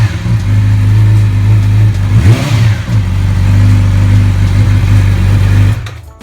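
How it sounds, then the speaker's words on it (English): Loud, close idle from a 2016 Yamaha R6 with a Yoshimura exhaust, broken by one sharp throttle blip that rises and falls, then a steady burble until the engine cuts off abruptly. "The bike's pretty loud as is."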